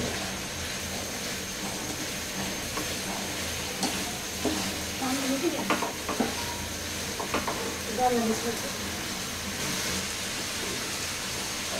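Hilsa fish head and bottle gourd curry cooking down in a pan over raised heat as the gravy reduces, giving a continuous sizzle with stirring scrapes and clinks and a voice talking at times.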